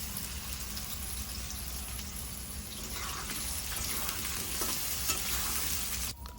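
Potato pieces frying in a pan for a vegetable dish with paneer and cauliflower, a continuous moderate sizzle with occasional stirring scrapes, ending with a brief clatter.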